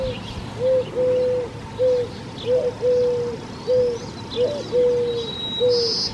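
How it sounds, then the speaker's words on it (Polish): Doves coo repeatedly in a steady rhythm of soft, hollow phrases, close and clear over a low background hum, with faint chirps from other birds in the distance. "odpłacając się człowiekowi za dogodne siedliska jakże relaksującym gruchaniem"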